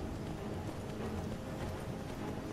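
Horse hooves clip-clop in a quick, steady running rhythm while riding in Skyrim, faint and continuous under a dull background wash.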